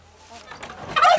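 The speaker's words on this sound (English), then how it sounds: "look at the turkeys. They're finished their food, now they're coming outside" Village turkeys gobble as they wander outside after feeding, a short burst of loud, rapid fowl calls swelling at the end.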